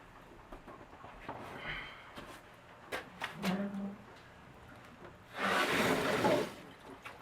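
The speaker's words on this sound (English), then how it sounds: "And then you can turn the water back on and watch her fill." Water rushing back into a household water filter housing as the supply is turned on after fixing sulfur-smelling water, heard as a loud, close hiss and gush in the final seconds after quieter handling clatter.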